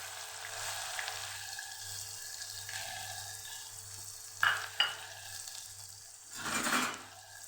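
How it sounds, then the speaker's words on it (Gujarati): Chopped onions sauté in hot oil with bay leaf, two dried red chillies and asafoetida for a Kathiyawadi green chickpea curry, giving a steady soft sizzle broken by a couple of sharp stirring clacks and a louder burst of frying near the end. "ડુંગળીને આપણે સરસ સાતળી લઈશું।"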